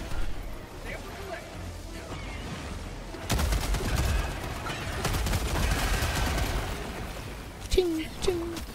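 Rapid bursts of gunfire from the video game Helldivers 2 crackle in dense volleys from about a third of the way in, loud and sustained, with game noise and voices around them.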